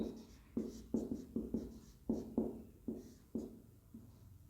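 Chalk or marker strokes on a board during an English-language finance lecture, a steady series of short tapping and scraping strokes, close and fairly quiet, with no talking over them.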